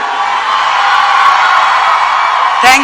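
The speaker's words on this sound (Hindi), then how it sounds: "एक बार जोरदार तालियां" A crowd applauds and cheers at a large AWPL 2025 gathering in Delhi, a dense, steady wash of clapping and shouts held for several seconds, with a brief louder whoop near the end.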